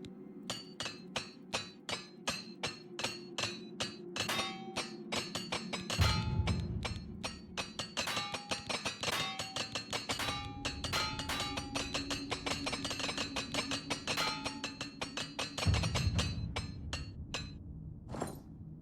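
A repair hammer strikes gauntlets in Oblivion Remastered, a long run of sharp metallic clinks in quick, steady rhythm, with a couple of duller thuds between bursts.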